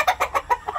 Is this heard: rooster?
yes